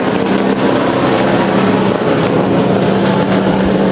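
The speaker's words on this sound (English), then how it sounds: "John West Townley firing up that brand new paint scheme" A NASCAR truck engine roars continuously at Daytona International Speedway, loud and close with a heavy steady drone, and no talking over it.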